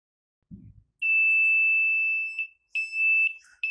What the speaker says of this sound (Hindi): तो ये अभी बज़र आ गया है